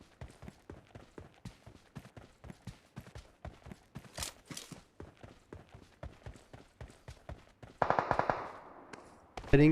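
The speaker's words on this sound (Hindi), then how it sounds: "तो जब फायरिंग की साउंड आती है" Rapid gunfire from a shooter video game: steady bursts of repeated shots, fairly quiet and even, with a louder, denser blast of noise near the end.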